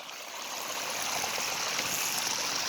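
Rainwater runoff streams steadily along a rut in a residential driveway after rain, a continuous close rushing and trickling wash with no voices over it.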